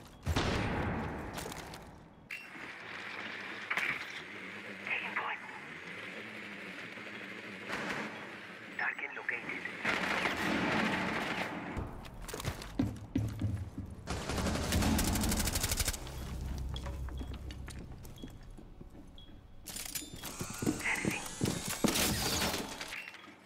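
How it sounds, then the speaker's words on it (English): In a video game, a thrown flashbang goes off amid bursts of gunfire and shattering, with loud, dense, continuous noise through the whole stretch and rapid fire near the end. "Throwing flashbang."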